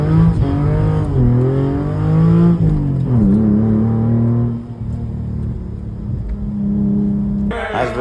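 A car climbs an Alpine mountain pass in pouring rain, its engine loud and close, revving up and down through gear changes with a throaty rumble. No talking is heard.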